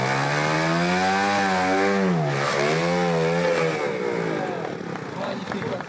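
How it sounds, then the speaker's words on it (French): A small, light trial motorcycle engine revs hard and high, its pitch climbing and dipping through several throttle bursts before settling into a rougher idle. "Une moto de trial, c'est une machine extrêmement légère"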